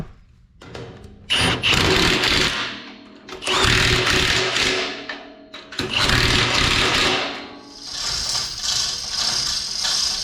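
Power tool tightening bolts on a grapple attachment, three loud whirring bursts of about two seconds each with brief pauses, then a steadier fading run.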